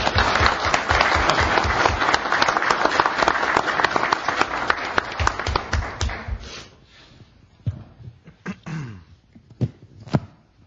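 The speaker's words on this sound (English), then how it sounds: "Give Elizabeth a round of applause" Room applause at a city council meeting, a dense burst of clapping for about six seconds that thins out into a few scattered, sharp final claps.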